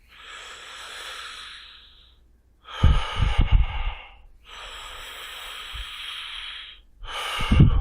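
A person demonstrates diaphragmatic breathing with deep, close, hissing breaths: a long inhale, a rough exhale, then another long inhale and a sharp exhale, with brief pauses between.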